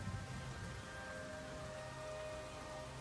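Rain falls in the video game Rain Code, a soft, steady hiss of drops on surfaces that holds evenly throughout, faint and without pauses.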